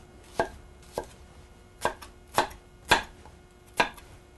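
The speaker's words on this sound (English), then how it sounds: "These end pieces, you can just chop these up." A knife chops the end pieces of an onion on a cutting board in seven sharp, separate knocks spaced unevenly, close and clear with nothing else heard.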